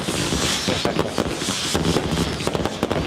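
Recorded fireworks from a device's fireworks mode, a dense run of crackling bursts and sharp pops spread evenly across the stretch, fairly loud and close, with no voices.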